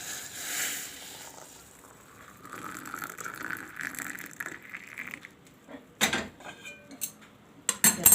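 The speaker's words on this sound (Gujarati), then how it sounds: "આપણે આમાં ગરમ પાણી નાખીશું." Hot water poured onto tea premix in a cup, a soft liquid fill running under kitchen clatter, followed by sharp spoon-and-cup clinks and knocks toward the end, close by and fairly loud.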